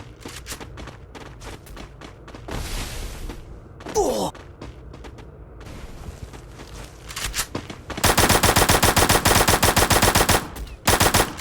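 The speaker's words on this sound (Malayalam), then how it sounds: "ഒരു എനിമി വെടിച്ചു" Gunfire from an enemy in a video game: scattered single shots early, then a loud, sustained automatic burst near the end, heard close and without talk.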